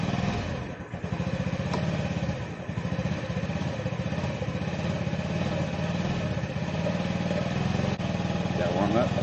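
A Honda Ruckus scooter engine runs with a steady, close putter and low clattering rhythm throughout, holding an even idle.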